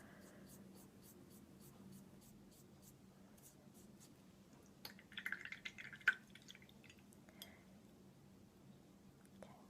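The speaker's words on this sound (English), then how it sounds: "straight onto the page like that, which is quite watery" Watery paint brushed onto a paper page, soft scratchy strokes with small wet dabs, quiet and close, with faint whispery sounds around it.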